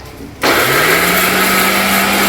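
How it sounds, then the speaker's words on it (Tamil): A kitchen mixer grinder starts up grinding tomatoes, switching on abruptly into a loud, steady high whine with a rising motor pitch that holds throughout, and nobody speaks. "தக்காளி வந்து 2 தக்காளி, இதையும் மிக்சியில் போட்டு ஒரு சுத்து"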